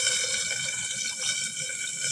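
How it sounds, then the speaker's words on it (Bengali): A pot of water for cooking rice boils on the stove, giving off a steady, close bubbling hiss that holds even for about two seconds with no voices. "দেখো ভাতের জল ফুটছে"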